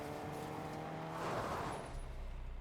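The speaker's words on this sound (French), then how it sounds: "nous pouvons rentrer dans les autos et nous pouvons rouler" A car driving in the Fortnite video game, with a steady, continuous engine drone that swells slightly midway and carries on with no one speaking.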